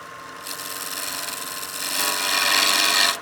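A wood lathe cuts a small chamfer on a turned tenon, a close, rising scraping hiss that starts after a brief pause and grows louder toward the end before stopping.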